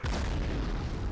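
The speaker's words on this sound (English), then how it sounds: "I swear, I do it like once a stream where I nearly kill myself with that grenade." A grenade detonates in the Medal of Honor video game, a single loud, deep boom with a rumbling tail that fills the short moment, with no voices.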